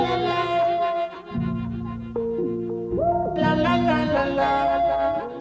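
Detuned recorder and vocals fed through a space echo unit, producing sustained, wavering tones that glide between pitches with trailing delayed repeats, loud and continuous with no speech.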